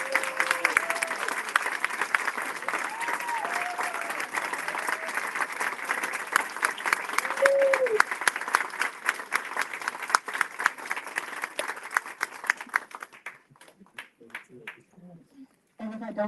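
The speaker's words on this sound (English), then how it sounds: "Please let's take a moment and give him a round of applause and appreciation." Audience applause at the grand opening ceremony of an African American Culture and Heritage Center, a loud sustained crowd of many clapping hands with a few voices mixed in, thinning and dying out near the end.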